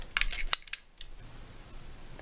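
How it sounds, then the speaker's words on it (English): Tape on a Ninninger Momoninger Shuriken toy package being cut, a few quick sharp snips and slices close up at the start, then near quiet. "So there's tape along the top here, so I'm going to cut that"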